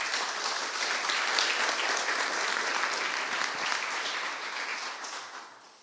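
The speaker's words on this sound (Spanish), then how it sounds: "Un aplauso, señor." Sustained applause from a lecture audience at a museum presentation, dense and even throughout before tapering off at the end, with no voices over it.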